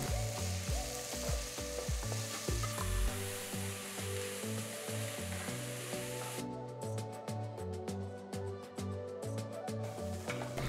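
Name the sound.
onion and capsicum sautéing in pan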